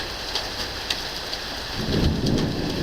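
Heavy rain pours down steadily in a thunderstorm while thunder rumbles, the roar swelling louder toward the end; no voices.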